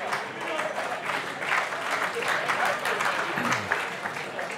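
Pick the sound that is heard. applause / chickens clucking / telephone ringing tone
applause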